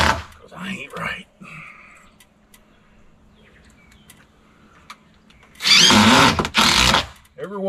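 A power drill drives screws into joist hangers while framing a patio deck, with short whirring bursts early on and two long, loud runs near the end, separated by quieter talk and background noise.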